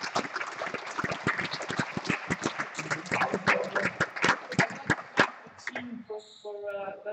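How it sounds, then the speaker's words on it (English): An audience at a men's over-50 final claps in a dense burst of applause for the referees. The clapping fades near the end, and a voice speaks faintly through it. "So big round of applause for them."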